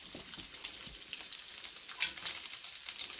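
Bacon frying in a pan sizzles and crackles steadily with sharp pops, close up and fairly quiet, with no one talking.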